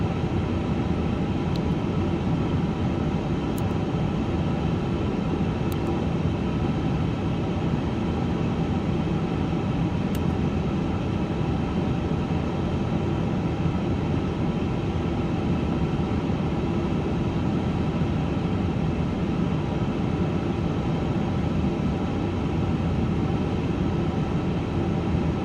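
Steady low rumble of an Etihad Airbus A350-1000 taxiing to the runway in Microsoft Flight Simulator 2024, a constant broadband engine drone at even loudness with a few faint high clicks and no talk.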